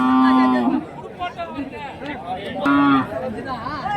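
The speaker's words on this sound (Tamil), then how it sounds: "மாடு கன்றோடு இருக்கு." A cow with her calf at a busy cattle market moos twice, loud and close, while people chatter and talk around the animals.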